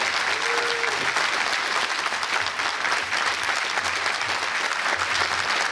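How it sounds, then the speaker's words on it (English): Sustained audience applause at a school prize day ceremony honoring a retiring English department chair, a dense even wash of many hands clapping, loud and steady throughout. "Please give her an extra applause as she comes to the podium"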